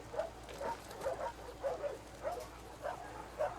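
A dog in the video game The Last of Us Part II gives a string of soft, repeated barks and yips at a steady pace, fairly faint and somewhat distant.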